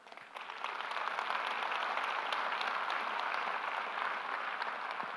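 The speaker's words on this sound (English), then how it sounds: "I want you to please give these folks a round of applause." Sustained applause from a conference audience at a CES 2014 tech presentation, a dense steady wash of many hands clapping that swells in within the first half second and holds evenly loud to the end.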